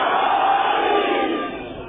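Crowd at a Shia majlis gathering in the UAE raising the Naara-e-Haidari slogan, a loud, sustained collective shout lasting about two seconds and tapering slightly at the end.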